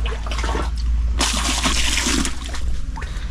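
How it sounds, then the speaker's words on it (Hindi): Salty seawater runs from a shower-room tap on Luli Island, Palawan, as someone washes hands and feet: a steady close rush of water that swells into a louder splashing gush midway, then settles back to a running trickle. "यहाँ से अपना हाथ पाँव धो सकते हैं, मैं भी धो रहा हूँ।"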